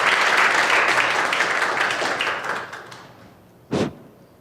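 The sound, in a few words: church congregation clapping to welcome a speaker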